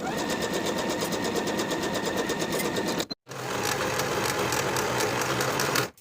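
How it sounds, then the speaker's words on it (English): A sewing machine runs fast and steadily, stitching the shoulder seams of a sweatshirt with a rapid mechanical rattle, stops for a split second, then resumes at the same loud, even pace. "Sew the shoulder seams with a 3/8 inch seam allowance"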